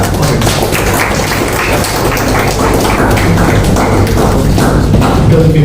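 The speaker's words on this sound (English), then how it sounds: "You can clap for it." Dense, steady clapping from a crowd, a continuous crackle of many hands at an even level throughout.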